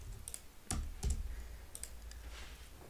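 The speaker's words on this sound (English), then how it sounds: "you have to type in the bucket name to delete the bucket" A few quiet, scattered clicks of typing on a computer keyboard, soft and close in an otherwise hushed room.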